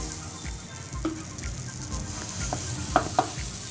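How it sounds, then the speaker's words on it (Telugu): Moong dal dosa batter on a hot pan gives a soft, steady sizzle with light stirring scrapes and a couple of small taps, close and even throughout. "ఇప్పుడు మనం చిట్టి పెసరట్లు వేసుకుందాం. వేస్తున్నానండి, పెను వేడయింది."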